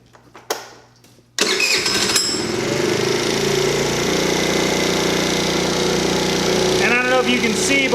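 Scooter engine cranks after a few short knocks and catches, then runs steadily at about 3,700 RPM with a loud, buzzing, rattly drone that holds to the end.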